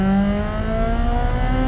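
A supercharged Honda S2000 accelerates hard, its engine note climbing steadily in a loud, close, rising whine with a continuous raspy roar.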